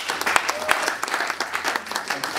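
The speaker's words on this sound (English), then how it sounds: "Give Evelyn a big round of applause." An audience bursts into steady applause, with irregular claps close by over a broad wash of clapping, and a voice speaks briefly over it.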